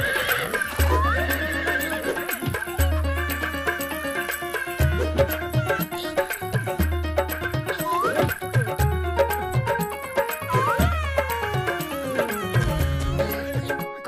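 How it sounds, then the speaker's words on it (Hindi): A cartoon horse whinnies repeatedly over a brisk, steady clip-clop of hooves, loud and close, layered with lively background music throughout. "ये घोड़ा बड़े काम का है, अब हर जगह हम इस पे ही जाएंगे।"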